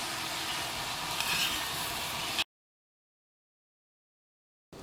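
Fish curry with kudampuli being stirred in a hot pot, a steady close sizzle and bubbling hiss with faint stirring, cutting off abruptly into silence midway before briefly resuming at the end.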